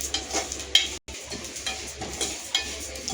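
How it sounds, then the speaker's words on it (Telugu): Fennel seeds roast in a pan, giving a soft dry sizzle and rustle with a few light scrapes and stirs, close and quiet, no one talking. "ఇది సోంపు అండి తినే సోంపు కొంచెము లైట్గా ఎర్రగా వేగేదాకా వేయించాలి"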